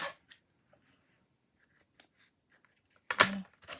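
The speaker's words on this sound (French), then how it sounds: "Je vais couper là." Scissors snip through jute lace trim in a single sharp, close cut, preceded by a few faint scattered clicks and rustles in an otherwise quiet room.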